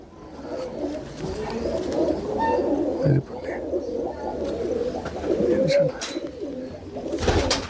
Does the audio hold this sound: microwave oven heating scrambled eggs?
no